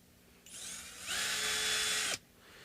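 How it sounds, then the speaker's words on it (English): A power drill on its lowest torque setting, running in reverse to remove screws, whirs briefly at low speed, then revs up loud and steady for about a second before stopping abruptly. "Now it's safe to use the power tool."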